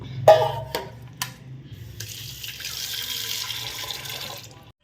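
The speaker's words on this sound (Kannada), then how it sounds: "ಹುಣಸೆಹಣ್ಣು ಸ್ವಚ್ಛವಾಗಿ ತೊಳೆದ್ಬಿಡಬೇಕು" Tamarind being washed in water for a Sunday fish curry sambar, with a few sharp clatters at first, then a steady running-water splash from a tap into a sink that fills the last few seconds.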